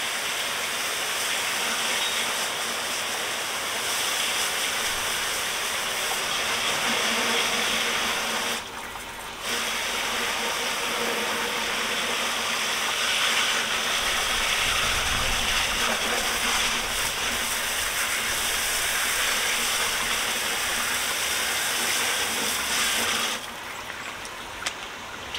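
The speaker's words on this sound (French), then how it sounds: "Je vais rincer la jante." Steady, hissing water spray rinsing a heavily soiled car wheel rim, a continuous loud jet with two brief interruptions where the stream cuts out before resuming.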